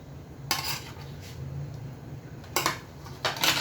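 Tomatoes and leeks cooking in a pot, with a few sharp metal clinks of a utensil against the pot over a low, steady background hum.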